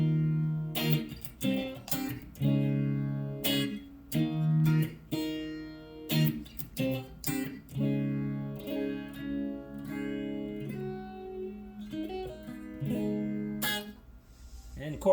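An electric guitar plays through a Donner AlphaFX pedal on its phaser setting with the rate turned down and the depth turned up, giving chords and single notes a slow, swirling sweep across a steady, clean-toned passage.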